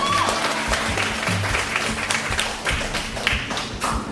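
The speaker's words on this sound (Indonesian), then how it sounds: "Tepuk tangan dong, yes." An audience claps together at a talk about a Turkish kebab franchise, brisk dense applause with some distinct individual claps, fairly close and continuous for several seconds.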